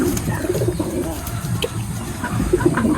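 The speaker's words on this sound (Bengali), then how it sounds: "এটা হচ্ছে পোটারের মেলটা অ্যালমন্ড পোটারের" A male almond pouter pigeon coos in low, repeated throaty phrases, steady and close, with faint chirps in the background.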